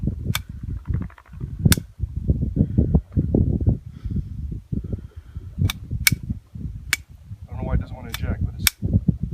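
A Bruni P4 9mm replica of a Beretta P4 fires at a live-fire range. Several sharp, loud shots come at irregular intervals, and a voice talks steadily between and over them as the pistol keeps jamming.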